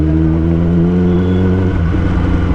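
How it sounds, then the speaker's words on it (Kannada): Superbikes and motorcycles gather in Bangalore for a group breakfast ride, one loud, close engine droning at a steady idle, then its pitch dropping and shifting into a rougher rev. "ಬೇಜಾನ್ ಬೈಕ್ಸ್ ಇದಾವಲ್ಲ ಗುರು"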